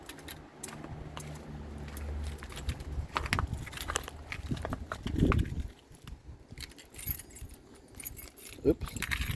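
Car keys jangle and clink close by while someone tries to open the trunk of a Mazda RX-8, in irregular metallic rattles with a voice talking over them.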